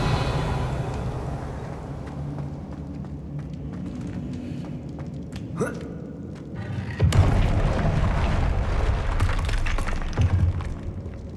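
In the Hogwarts Legacy game, a Confringo spell goes off as a sudden heavy boom partway through, rising out of a low rumbling background and trailing into a rougher, louder roll.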